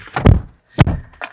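A car door thuds shut twice in close succession, heavy dull knocks up close, followed by a lighter knock.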